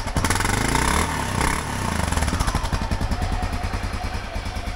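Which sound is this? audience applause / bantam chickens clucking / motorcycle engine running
motorcycle engine running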